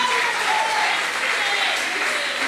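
A church congregation applauds during a sermon, a dense, steady wash of clapping from many hands that fills the space without a break, with a voice faintly under it.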